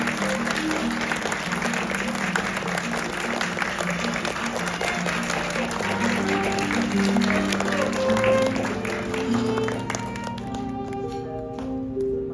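Wedding guests applaud steadily as the couple makes their entrance toward the stage, the dense clapping running throughout over background music and a brief voice.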